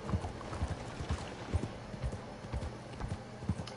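Horse hooves clop in a steady walking rhythm in Red Dead Redemption 2, about eight distinct thuds over a few seconds, moderately close with faint background ambience and little talk.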